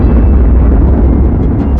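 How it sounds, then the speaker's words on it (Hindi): A huge, sustained explosive roar fills the sound, loud and dense with deep rumbling low end, steady throughout with a few brief crackles near the end. "बीच के इस भयंकर दबाव के कारण एक विशाल विस्फोट हुआ"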